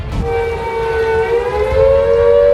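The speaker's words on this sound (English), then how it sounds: "sirens dating back to World War II warned of flooding" A loud World War II-era civil defense siren in West Yorkshire sounds a flood warning, wailing continuously, its steady droning tone slowly rising in pitch, heard alone without voices.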